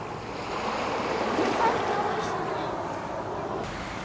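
Surf washing onto a beach in Montenegro, a steady broad rush of breaking waves close by with light wind noise and no clear voices, holding an even level throughout.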